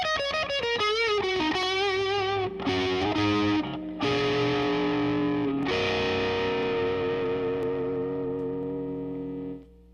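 Electric guitar chords on a Strat strummed through a Marshall DSL40 amp at max reverb, each chord ringing out long and washing into the next before fading away.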